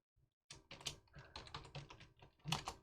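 Quick, uneven keystrokes tap out a password on a computer keyboard in a terminal window, close and clear against a quiet room.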